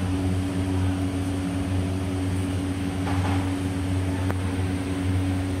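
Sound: MP20280 drone motor spinning 51 inch propeller on test

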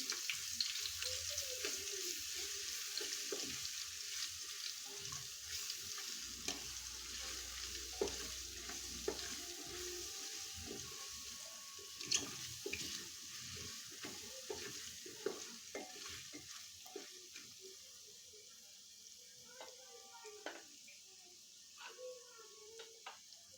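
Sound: ginger garlic paste sautéing in a pan

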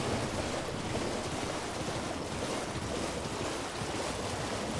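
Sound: waterfall rushing in the video game Elden Ring

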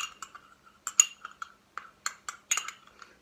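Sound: spoon mixing coffee for coffee art

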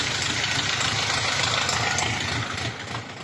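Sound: tractor engine running while digging potatoes

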